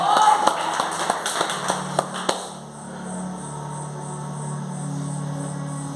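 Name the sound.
church congregation applauding to welcome a preacher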